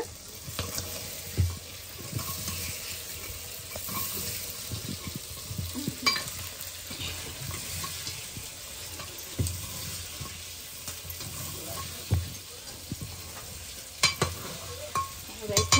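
Chopped onions frying in a pan for a goat meat curry, a steady close sizzle with occasional stirring scrapes and clinks running throughout.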